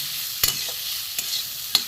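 Vegetables for a dry chorchori curry frying in a pan, a steady soft sizzle with a few scraping stirs of a spatula, close and without talk.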